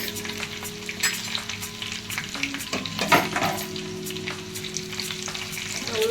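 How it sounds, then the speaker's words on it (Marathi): Curry leaves and asafoetida sizzling in oil for a green peas aamti tempering, a steady crackling fry with a few sharper pops and a brief stirring clatter midway, heard alone at close range. "कढीपत्ता थोडं तेलामध्ये आपल्याला हिंगच टाकायचं आहे"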